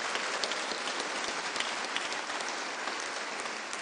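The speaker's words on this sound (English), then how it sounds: "How about another round of applause for Brigadier General Leonard?" Steady, dense applause from an audience at a Veterans Day ceremony honoring a Brigadier General, sustained and even throughout with no talking.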